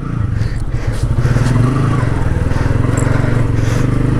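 A motorcycle that has sat unused for 24 days after being soaked through by rain runs with a loud, close, steady engine rumble and a slightly rough, clattery edge throughout.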